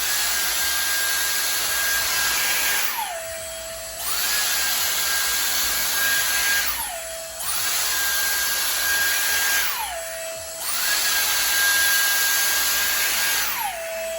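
Dyson Airstrait straightener blowing hot air on hair, a loud close whooshing blower that runs in four long bursts, each dropping in pitch briefly between passes.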